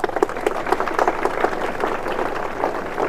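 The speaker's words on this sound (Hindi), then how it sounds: "एक बार उनके लिए आप लोग ताली बजा दें।" Audience at a Republic Day celebration at an educational institute claps for the teachers, a dense, steady crowd applause at moderate distance throughout.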